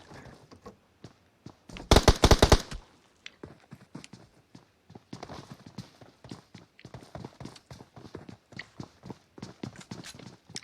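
Gunfire rings out in a competitive video game match: a dense, loud burst of rapid shots, then a quicker string of lighter, clipped pops and footstep-like taps that continues to the end.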